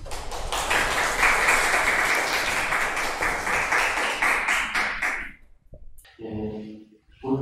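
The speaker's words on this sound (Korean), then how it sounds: "박수로 청해 주시길 바라겠습니다" An audience at the opening of an art history academic conference applauds in a full, steady burst for about five seconds, then the clapping stops abruptly and a voice begins speaking.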